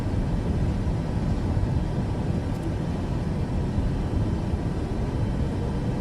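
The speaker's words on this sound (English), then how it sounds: "Or maybe that's the reverse thrust." An airliner in a flight simulator game gives a steady, loud broadband engine roar with no voices, like reverse thrust on the runway.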